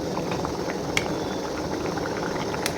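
Potatoes and taro boil steadily in a pot, giving a continuous bubbling wash with occasional sharper pops, with no talk.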